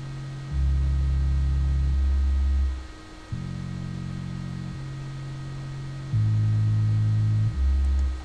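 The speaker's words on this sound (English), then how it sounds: "by using a sample of a subbass" Drum and bass sub bass sample in FL Studio, a loud, deep sustained tone stepping through several held notes, playing alone over faint steady hum.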